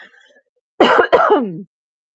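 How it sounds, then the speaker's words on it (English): A single loud, close cough in two quick bursts, followed by silence. "Hold on. I got a cough."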